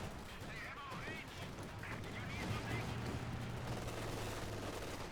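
Battle in the strategy game Company of Heroes 2 brings a dense, continuous din of machine gun and small-arms fire with dull explosions, fairly distant and low in level throughout.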